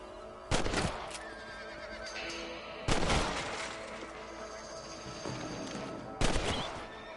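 Three gunshots ring out in Red Dead Redemption while the player hunts rabbits on a ranch. Each sharp blast has a long, echoing tail, and faint ambient game sounds fill the gaps between shots.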